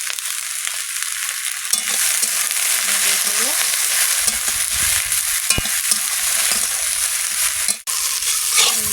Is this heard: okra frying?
yes